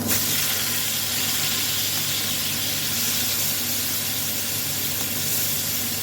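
A loud, continuous hissing sizzle of prawns coated in salt and turmeric frying in oil, steady and unbroken from start to finish.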